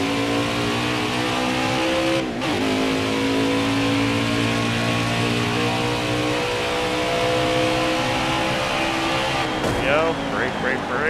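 A NASCAR Heat 4 race car engine roars loud and close, with two sudden pitch drops as it downshifts under braking, someone talking over the steady drone.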